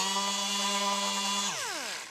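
A power sander's motor drones with a steady buzzing tone while sanding a wooden table leg, then winds down as its pitch slides lower.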